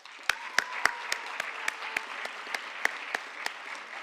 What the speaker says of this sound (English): Let us thank them with a huge round of applause.